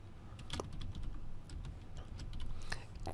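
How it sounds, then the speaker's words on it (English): Fingers type on a computer keyboard, repeatedly pressing Tab to move between data entry fields, making soft, close, irregular key clicks over a low background hum. "Tab, I can just keep tabbing"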